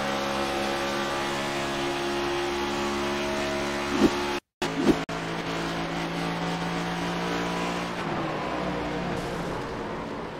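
Race car engines at a Charlotte All American Racing League event, one car straining as if about to blow, a steady loud drone with rising revving and a brief dropout before the roar resumes.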